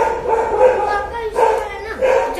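A dog in the street gives close, loud yelping barks and whines in short bursts, mixed with a voice.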